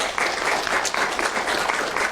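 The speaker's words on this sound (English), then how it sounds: "So I think that you deserve a round of applause." An audience applauds at an online environmental social science assembly, a steady wash of clapping that holds evenly through the whole stretch without voices.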